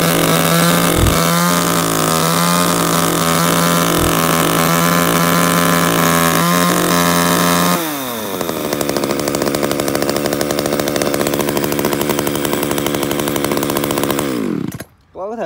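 Used Japanese chainsaw of about 4 kg, a Hitachi from a lot that includes Shindaiwa, Echo and Ryobi saws, sits at a steady loud idle with two sharp blips, then revs high and holds before cutting off abruptly near the end.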